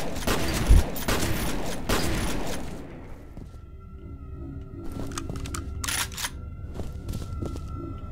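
Gunfire in the video game F.E.A.R. opens with several sharp, loud shots in quick succession, then gives way to quieter eerie in-game ambience with scattered clicks and tones.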